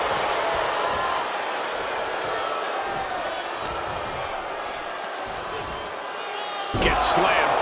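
A wrestler is slammed onto the ring mat during a WCW World Heavyweight title match between Ric Flair and Randy Savage. A single heavy thud lands near the end amid crowd noise, with commentary running over it.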